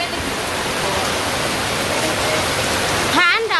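Steady rainwater falling in a village, a dense, even hiss that runs throughout, with a brief voice near the end.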